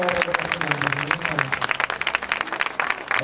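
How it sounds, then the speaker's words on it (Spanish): Audience at a Teletón 2012 charity event giving a round of applause, dense steady clapping at moderate level with a few voices mixed in beneath it. "queremos nosotros destacarlo con un fuerte aplauso"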